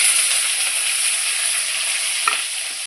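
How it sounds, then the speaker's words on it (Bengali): Cumin seeds, bay leaf, chopped onion and chili sizzle in hot oil in a pan, a steady, loud, close hiss that runs throughout, with a brief stirring knock near the end. "গরম হয়ে গেছে, জিরা দিয়ে দিলাম, তেজপাতা, পেঁয়াজ লঙ্কা কেটে রাখছিলাম সেটা দিয়ে দিলাম"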